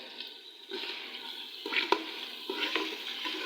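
Chopped onions fry in a pot with a steady, moderate sizzle, broken by several sharp scrapes and knocks of a stirring spoon.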